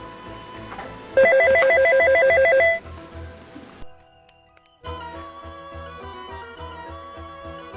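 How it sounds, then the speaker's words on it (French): A telephone rings loudly in one long trilling burst, then falls silent before music resumes. "le téléphone vient interrompre sa chanson préférée à la radio"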